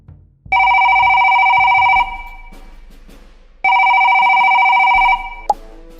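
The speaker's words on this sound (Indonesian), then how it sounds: "Nah, teleponnya masuk nih." A telephone rings in two long electronic bursts separated by a pause, loud and close, with faint handling noise between the rings.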